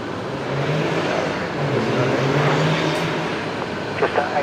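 A Qantas Link Dash 8 turboprop takes off from runway 01 right at Brisbane Airport, its engines a steady, loud, broad roar that holds throughout, with brief knocks near the end.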